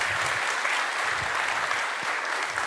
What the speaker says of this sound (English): Please give a big round of applause for David.